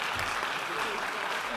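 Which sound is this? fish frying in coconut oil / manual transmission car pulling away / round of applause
round of applause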